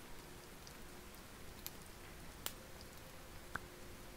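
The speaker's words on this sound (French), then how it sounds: "vu qu'il pleut, on va se permettre de mettre de la pluie" Soft rain ambience added to a night-time knitting live stream, a faint continuous patter with a few scattered sharper drips standing out.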